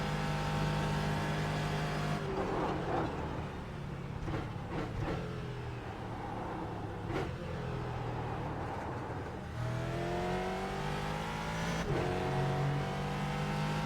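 Ford GT race car in the iRacing sim at Le Mans, its loud engine droning steadily with pitch that sags and climbs as the tires begin to slip, no voices.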